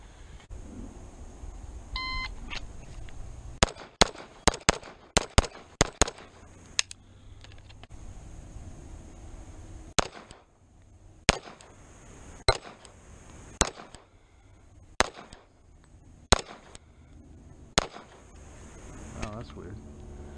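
A shot timer beep followed by strings of sharp, loud pistol shots from an FN FNX-45 in a USPSA-style speed drill, fired in quick bursts with short pauses between strings, with some talk nearby.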